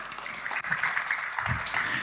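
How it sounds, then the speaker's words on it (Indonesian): A church congregation applauding in a sanctuary, a short burst of dense clapping that fills the space briefly and evenly. "Tepuk tangan saudara."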